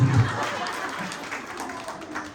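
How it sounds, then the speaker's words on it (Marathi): An audience at a home event claps for a couple's 25th wedding anniversary, brief moderately loud applause amid crowd chatter. "टाळ्या वाजवत"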